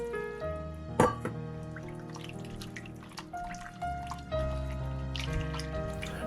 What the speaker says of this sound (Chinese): 倒入一盆清水，洗净肉里边的血水和油脂